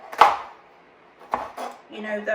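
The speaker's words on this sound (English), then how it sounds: "I slice them, and my slices are about 1/4 inch" A knife cuts through leeks on a cutting board, giving two or three distinct close chops with a soft scrape between them.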